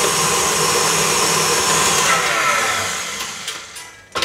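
An electric mixer beats eggs with sugar for an orange cake, a loud steady whirring drone that holds for several seconds, then fades and cuts off, with a few clinks at the end.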